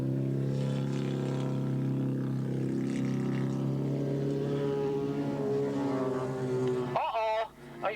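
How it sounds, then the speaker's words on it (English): A Honda racing motorcycle engine drones steadily as it runs down the back straightaway at Willow Springs International in a 1985 AFM race, a loud sustained tone that rises in pitch near the end before dropping away. "Watch the power on that Honda, though, come through as they head down that back straightaway."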